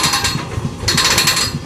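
A jackhammer drills and breaks up a 4-metre staircase with continuous rapid pounding, loud and close, the hammering carrying steadily on its own.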